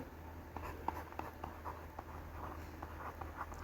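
Pen or pencil writing on paper while working through a statistics problem on correcting a mean, soft scratching strokes and taps in a quiet room, close and faint with no talk.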